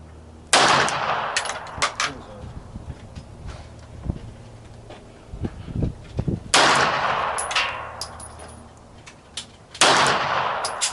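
Gunfire at an outdoor shooting range, several loud, sharp shots spaced seconds apart, each ringing out with a long decaying echo, with quieter clanks and handling noises in between.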